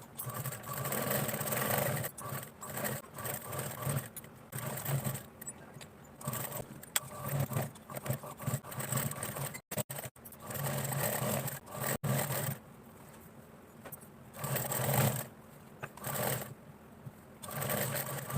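Straight stitching on a sewing machine set to stitch length 5, a steady motor whir running in bursts with short pauses, close and fairly loud, with no talking.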